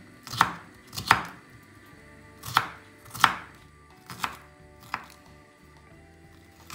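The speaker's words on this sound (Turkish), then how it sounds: "Çok az kalmış olan mor lahanadan biraz doğruyorum." Six sharp knife chops on a cutting board through red cabbage, spaced irregularly with pauses between, close and crisp, no voices.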